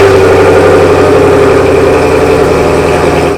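A 2019 Chevrolet Camaro SS V8 engine runs close up, a very loud, steady, deep rumbling idle with a continuous throbbing pulse and no speech.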